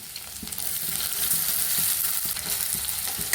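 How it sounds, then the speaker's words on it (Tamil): Chopped onions and garlic sizzle steadily in hot oil in a pan while being sautéed for chapati noodles, a continuous bright frying hiss with occasional soft stirring scrapes, close and without talk. "இந்த ஸ்டேஜில் நம்ம கட் பண்ணி வச்சுருக்க வெங்காயத்தை அது கூட சேர்த்துக்குவோம்."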